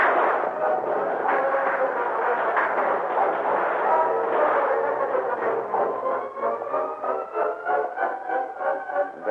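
A battle in a radio drama, with dense, continuous rumbling artillery and gunfire that booms steadily at close range and then thins into wavering, tonal rumbles toward the end.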